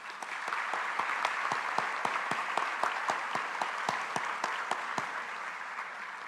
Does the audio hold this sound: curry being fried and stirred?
no